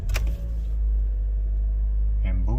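A Toyota car's engine starts after a short click near the beginning, then settles into a steady low idle rumble, close and loud, with a brief surge near the end.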